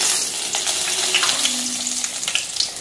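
Cumin seeds and black pepper fry in hot oil in a pan, giving a loud, steady sizzle with scattered small crackles and pops.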